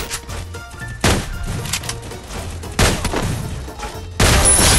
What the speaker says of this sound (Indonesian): Shotgunnya lucu sekali ya.